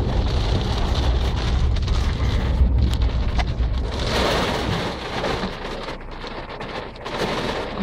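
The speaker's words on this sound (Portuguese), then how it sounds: "Vai dar um temporalzinho." Heavy rain and thunder from a storm over a gravel road near Concórdia, Santa Catarina, with a dense, steady wash of rainfall and low rumbling that swells and fades.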